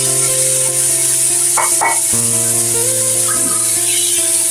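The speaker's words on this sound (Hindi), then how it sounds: "और इस ऑयल में इसको और लहसुन के साथ हम इसे फ्राई कर लेंगे।" Chicken pieces fry in hot oil with garlic, a loud, steady sizzle running throughout, with a brief clatter of stirring partway through and a faint background hum.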